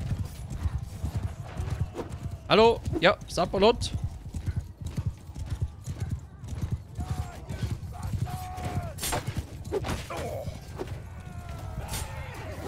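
Horse hooves in Mount & Blade II: Bannerlord beat a steady, rapid clip-clop through the whole stretch, with a brief whinny near the start, while someone talks over the riding.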